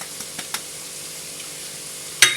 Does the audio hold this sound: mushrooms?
yes